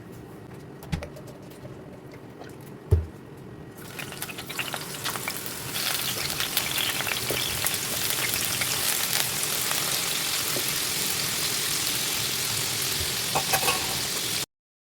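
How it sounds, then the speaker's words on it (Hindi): Potatoes frying in hot oil in a pan for a home-style mutton and potato curry: a few soft clanks at first, then a loud, steady, close sizzle that fills the rest. "एबे पैन बसई तेल पकईकि आलूटा को फ्राए करनेबी"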